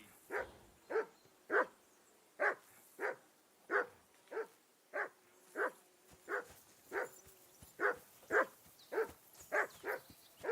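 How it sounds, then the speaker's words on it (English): A dog in the medieval game Kingdom Come barks repeatedly, about fifteen sharp, fairly evenly spaced woofs at moderate distance, with quiet gaps between them and no talking. "Jesus, Henry, that barking's driving me nuts."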